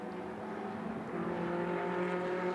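Green and white Ferrari race car passing on the Hockenheim circuit during a Coppa Shell race, a sustained engine drone heard from a distance with a slight rise in pitch and level as it goes by.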